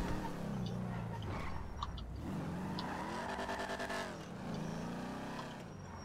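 A car in the video game Grand Theft Auto 5 drives fast, its engine rising and falling in pitch as it revs and shifts, with tires squealing briefly, close and continuous.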